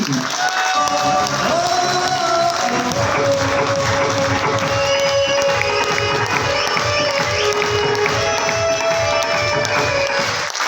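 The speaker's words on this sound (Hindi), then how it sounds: "एक बार जोरदार ताली के बीच में अगली कार्रवाई के लिए मैं इनवाइट करना चाहता हूँ मिस्टर दीपक पापना जी" A crowd at an RCM business gathering applauds and cheers as the next speaker is invited, a long, busy wash of clapping and voices with music running beneath, loud and sustained throughout.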